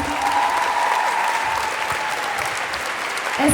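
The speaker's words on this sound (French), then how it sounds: "Est-ce qu'on peut les applaudir encore un peu," A crowd at an event at the Palais de la Bourse in Bordeaux applauds dancers with steady, dense clapping that holds throughout, bright and close, with no voices over it.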